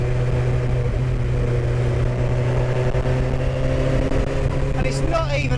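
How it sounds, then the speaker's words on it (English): MK Indy RR kit car with a Hayabusa engine on a test drive, a loud steady in-cabin engine drone held throughout with heavy low rumble and vibration, and a voice talking over it. "The engine screaming, the car's shaking itself to death."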